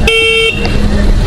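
A short, thin electronic horn beep from a Hero Electric Optima electric scooter sounds once, close and loud, against road and motor noise.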